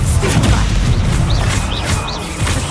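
A Stupefy spell cast during combat in Hogwarts Legacy, bursting as a loud, booming magical blast over a dense, continuous wash of battle noise.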